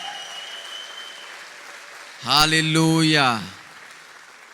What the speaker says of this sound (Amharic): የታለ እልልታችሁ ጭብጨባችሁ ፉጨታችሁ ይሰማ